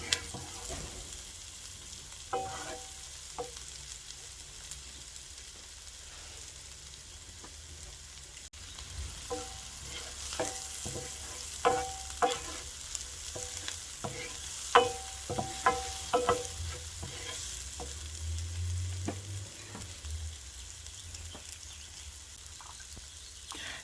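Green onion whites are stirred and fried in a pan for spicy eggplant and tofu in garlic sauce, a soft, fairly quiet sizzle with repeated scraping and tapping strokes of a utensil, with no voices.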